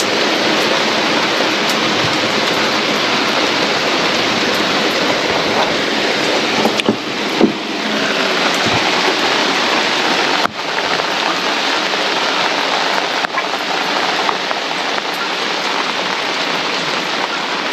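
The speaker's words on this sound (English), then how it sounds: "It's raining quite a lot." Heavy rain pours down on a marina during a thunderstorm, a dense, loud, steady hiss with scattered sharper spatters and drips close by, and no voices.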